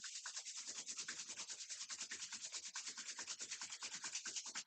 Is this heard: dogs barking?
no